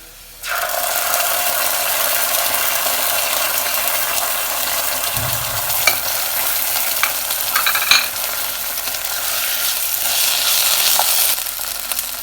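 Caramelized onions with ginger garlic paste sauté in a pan, giving a steady close-up sizzle with occasional scraping and clinks of a stirring utensil, continuous throughout with no talking.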